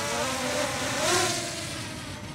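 A Holy Stone HS720G drone flies in wind, its steady high-pitched propeller whine swelling slightly midway, close and continuous with broadband wind rush beneath.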